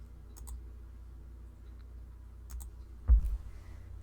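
A computer mouse clicks a few times at close range during image editing, giving soft, sharp ticks in small clusters, with one thumping bump near the end over a quiet background.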